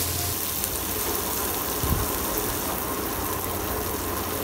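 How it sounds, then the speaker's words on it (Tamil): Onion and tomato sautéing in hot oil for a bitter gourd fry give a steady, loud, continuous sizzle from start to finish, with a brief stirring scrape partway through. "வெங்காயம் வதங்கட்டும். அடுத்ததாக ஒரு தக்காளி சேர்த்துக்கிறேன், அதையும் நல்லா வதக்கிக்கோங்க."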